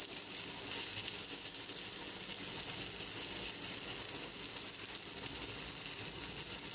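Bombil fish coated in semolina frying in a pan over a medium gas flame, a steady bright sizzle that holds evenly throughout with no voices.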